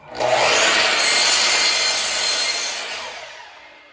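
A bandsaw cuts through a wood board, giving a loud, continuous rasping whine that holds steady for a few seconds and then gradually fades as the cut finishes.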